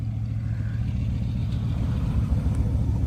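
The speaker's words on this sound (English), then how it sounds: "Despite the engine light coming back on, the car was actually running and driving." A car engine runs with a steady low rumble from inside or near the vehicle, the tone swelling slightly as it revs toward the end, no voices present.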